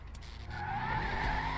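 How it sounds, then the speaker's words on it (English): A video game sports car, the Imperator muscle car, idles steadily while parked with a deep, continuous rumble and a raspy mid-range growl, swelling slightly louder partway through. "Another nice thing, it's the sound of this car, which you can hear it."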